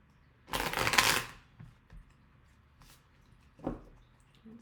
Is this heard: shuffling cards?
yes